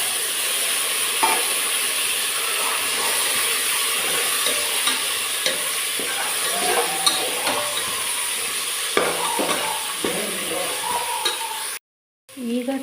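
Onions and peas sizzle steadily in a pan for a tomato bath, with a spatula scraping and stirring through the hiss before a brief drop to silence near the end.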